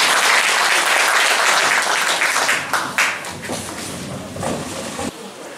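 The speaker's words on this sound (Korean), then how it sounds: "박수 한번 다시 부탁드립니다" A crowd applauds at a People Power Party rally for the 20th presidential election in Bucheon, loud sustained clapping that gradually thins and softens toward the end.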